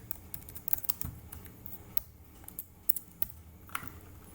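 Keys clatter on a computer keyboard as code is typed, a quiet, uneven run of light clicks with a few sharper taps, close by with no one speaking.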